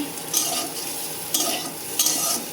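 Soybean chunks sizzle in hot oil in a pan, a continuous close hiss with three sharper spatula scrapes as they are stirred, no talking.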